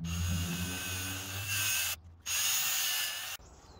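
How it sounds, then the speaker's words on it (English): High whirring of a rotary tool with a soft wire wheel spinning against a metal valve body of a Karcher pressure washer, close and steady, briefly stopping twice before resuming. "I'm just going to use a soft wire wheel"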